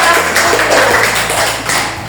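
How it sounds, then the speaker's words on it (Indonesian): A class claps to welcome group 1 before its presentation, a steady, close and fairly loud burst of many hands lasting about two seconds with no talking. "ayo kita sambut dalam tepuk tangan bagi kelompok 1"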